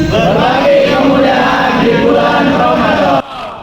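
Students of a civil engineering association at a Ramadan sermon in Cirebon chant a rousing group yell in unison, a loud, continuous crowd roar that cuts off abruptly near the end.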